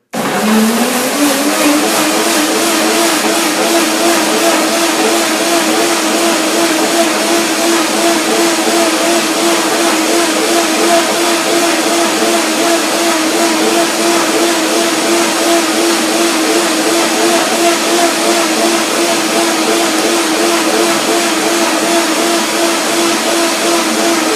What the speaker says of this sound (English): Now the blender dance and the first blending of the sesame cream.